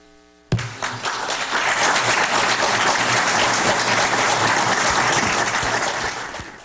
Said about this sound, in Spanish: esa ovación que raramente se escucha en este salón